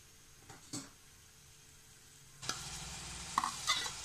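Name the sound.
ginger sizzling in hot coconut oil in a pan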